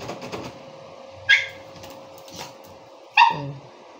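A dog near a gate gives two sharp, loud barks a couple of seconds apart, over a quiet background with faint shuffling and a steady low tone.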